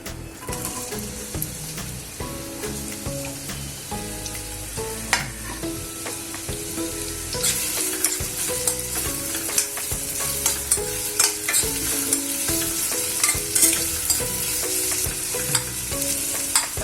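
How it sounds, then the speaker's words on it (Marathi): Onion frying in oil in a kadhai is stirred steadily, with a continuous sizzle under repeated scraping and clinking of a spoon against the pan, the sizzle growing brighter and louder partway through. "त्यामध्ये कांदा घालून घेऊया"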